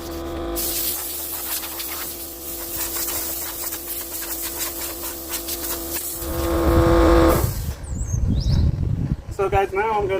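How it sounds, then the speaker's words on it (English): Aerosol primer sprayed onto an old tractor part during a restoration, a sustained close hiss in several bursts with brief gaps, with a short voice near the end. "throw some primer on it"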